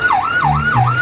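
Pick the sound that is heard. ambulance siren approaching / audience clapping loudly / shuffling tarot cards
ambulance siren approaching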